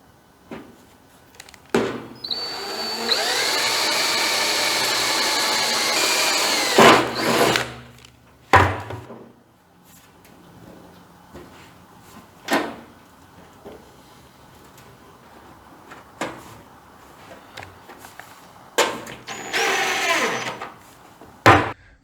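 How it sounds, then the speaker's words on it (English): A drill bores into a fuel tank for a 1940 Chevy coupe sending unit in one sustained whining burst lasting several seconds. Scattered knocks and clunks follow, then a second short burst near the end. "We'll drill her right there in place."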